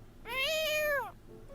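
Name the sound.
cat meowing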